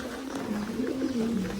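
Pigeons in a loft coo in low, continuous, overlapping murmurs close by, over a faint steady background hiss.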